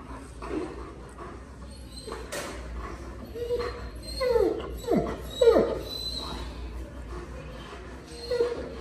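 A giant dog at a veterinary clinic lets out intermittent high whimpers and short yips, a few louder cries clustered near the middle, over a quiet room background.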